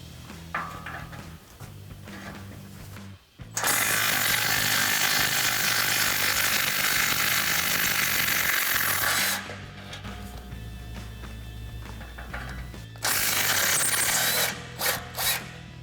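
A power tool, likely an impact wrench, zips out 14mm factory exhaust bolts on a Toyota Tundra with loud sustained bursts between quieter gaps of handling and clicks, close up.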